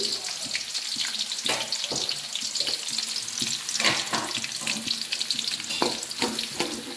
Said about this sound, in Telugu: ఎర్రగడ్డలు బాగా కొంచెం బ్రౌన్ వచ్చే వరకు ఫ్రై చేసేసుకుంటుంది